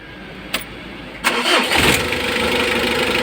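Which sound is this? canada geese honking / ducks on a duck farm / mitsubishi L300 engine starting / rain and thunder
mitsubishi L300 engine starting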